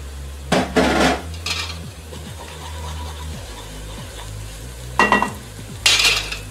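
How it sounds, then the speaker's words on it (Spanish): Garlic and onion frying in a pan, a steady soft sizzle with sharp metallic clinks and scrapes from a utensil stirring against the pan at intervals. "Lo dejamos por 2 minutos para que el ajo se integre a la cebolla y se dore"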